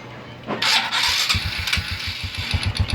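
A Honda Wave 125i motorcycle engine cranks and catches after a brief start, then runs in a steady, close, low pulsing idle for the rest of the moment, with no talking over it.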